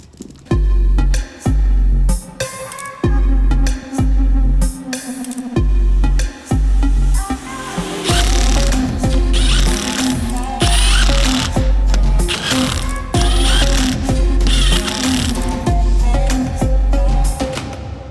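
An impact wrench tightens the wheel bolts on a Jeep fitted with large 38x12.50R17 Nitto Ridge Grappler tires: loud rattling bursts, first short repeated pulses, then longer, more continuous hammering runs, close by.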